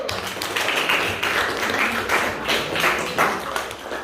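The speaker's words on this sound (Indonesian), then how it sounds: "Ya, tepuk tangan dulu." A junior high school science class clapping their hands together, a brisk, somewhat rhythmic patter of many hands close by that swells and eases over several seconds, with no talking.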